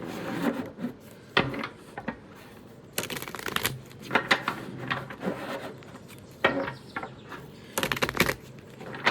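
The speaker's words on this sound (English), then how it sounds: "just need to shuffle" Oracle cards being shuffled by hand, heard as several separate bursts of crisp riffling and rubbing with short pauses between them, close and fairly loud.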